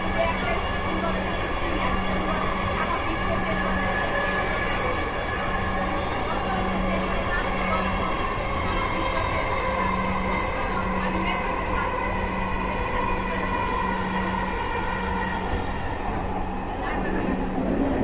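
Metro rail train running toward Agargaon station during the Eid holidays, a steady loud interior rumble and hum throughout, with a recorded announcement voice playing over it.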